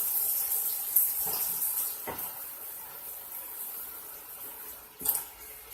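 Water is poured into a pan of chicken on the stove, a faint running hiss with short louder splashes and sizzles, two sharp bursts standing out, with no talking.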